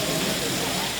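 An artificial rain fountain at Saheliyon Ki Bari garden in Udaipur gives a continuous, dense hiss of falling water, loud and steady for the whole second.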